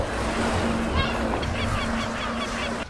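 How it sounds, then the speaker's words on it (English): Magellanic penguins in a large colony near Punta Arenas, Patagonia give honking, braying calls over the steady wash of nearby surf, with a few overlapping calls standing out amid the background. "We are surrounded by thousands and thousands of Magellanic penguins"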